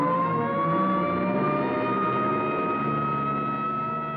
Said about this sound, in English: here comes an ambulance out.